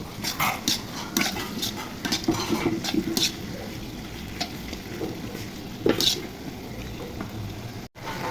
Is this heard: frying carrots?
yes